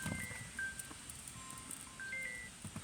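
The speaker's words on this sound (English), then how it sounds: "oh, my phone's ringing" A mobile phone rings faintly nearby, a short melodic ringtone of bright, separate tones repeating over a quiet room.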